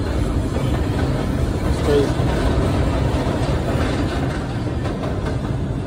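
Steady low rumble of a New York City subway train in motion, heard from inside the car, with a continuous broadband roar and faint rattling throughout while someone talks over it.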